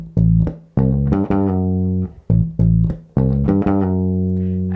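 Bass guitar playing a short riff with hammer-ons and slides, clear, close, and alone, with distinct plucked notes and gliding pitch changes in an uneven rhythm of about six attacks.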